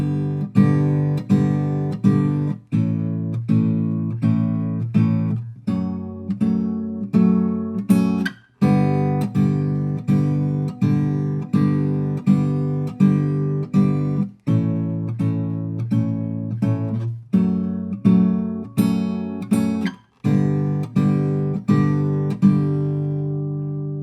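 Guitar fingerpicking the chords of a song, a repeating plucked arpeggio pattern played alone and close, with evenly spaced note onsets and brief gaps at chord changes.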